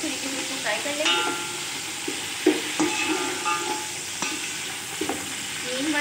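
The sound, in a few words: curry leaves frying and being stirred for beef biryani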